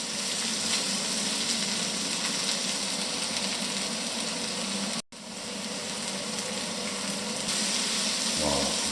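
Onions frying in olive oil for a slow-cooked ratatouille with honey, a steady close sizzle running unbroken apart from one brief dropout midway.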